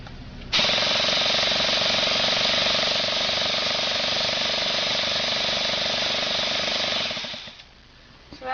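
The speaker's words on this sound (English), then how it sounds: "we're going to prime the engine, and it'll get the lubricant to circulate through the whole engine" An engine being primed during servicing to circulate lubricant, a loud, steady mechanical whirring drone that starts abruptly and holds for about seven seconds before cutting off, heard close up without talk.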